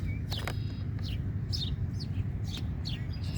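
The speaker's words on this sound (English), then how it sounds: "Birds in this tree right here" Small birds in a tree on a Wisconsin fishing outing chirp in brief, high, scattered tweets, several calls spaced across a few seconds over a steady low outdoor rumble.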